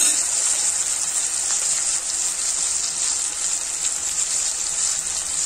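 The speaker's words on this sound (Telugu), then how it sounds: "ఇప్పుడు ఒక సన్నని మంట మీద ఉడకనిద్దాము" Colocasia gravy simmers in a pan on a low flame, giving off a soft, unbroken hiss and faint bubbling, steady and close, with no talking.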